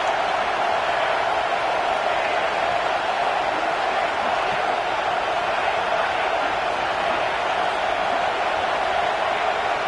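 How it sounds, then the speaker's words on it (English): Home crowd roaring in a college football stadium during a Stanford versus Georgia game, a dense, steady wall of cheering noise that stays loud and continuous without breaks. "how nice is it to have the home crowd going absolutely bananas?"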